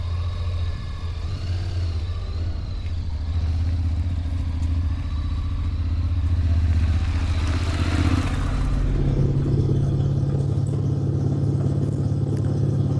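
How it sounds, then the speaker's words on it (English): A Honda NC750X motorcycle riding along a road, a steady low engine drone mixed with wind and road rumble that swells slightly midway, continuous and fairly loud with no talking. "So let's take the bike on the road, take a look at the setup"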